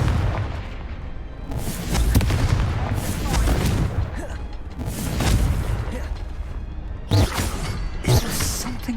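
Confringo fire spell blasts in Hogwarts Legacy, several loud booming bursts spaced across the stretch with sharp cracks near the end, set against a rumbling game background.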